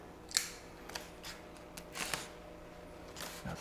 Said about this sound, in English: pop some tape apart here